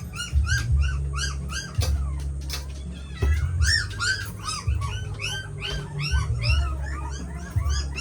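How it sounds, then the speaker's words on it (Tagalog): A litter of puppies whimpers and yelps in a steady stream of high, wavering cries that overlap one another, with low household rumble and occasional knocks beneath. "Ito na yung mga tuta, oh."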